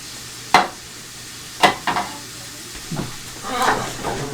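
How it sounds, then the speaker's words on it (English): Cheese for a cheesy bake sizzles and crackles steadily in a hot pan, with a few sharp scraping stirs standing out over the frying hiss, close and fairly loud. "You can hear it starting to sizzle now."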